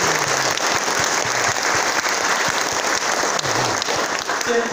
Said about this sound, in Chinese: 我们再次热烈掌声感谢我们的